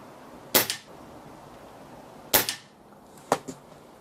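Three sharp, snappy shots from a BSA R10 SE .22 air rifle with a baffled shroud, spaced a second or two apart outdoors, each a short crack with a quick echo over quiet background hiss.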